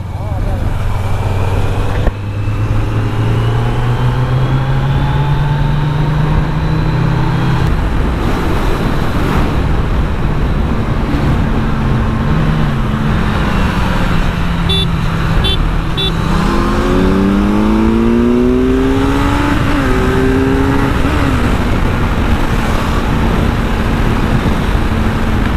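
A Honda CBR650R motorcycle pulls hard from third gear on a highway, its engine pitch rising steadily through shifts beneath heavy, constant wind rush, with a voice speaking over it.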